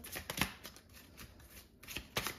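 Tarot cards are shuffled up close, a run of quick riffling and soft slaps with brief pauses, in a quiet room.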